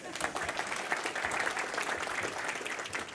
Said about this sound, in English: Round of applause for my willing victim.